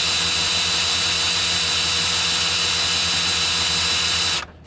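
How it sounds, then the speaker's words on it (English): A power drill spins an engine's oil pump drive shaft at a steady high whine for several seconds, then cuts off abruptly near the end. "you hook up your drill and spin"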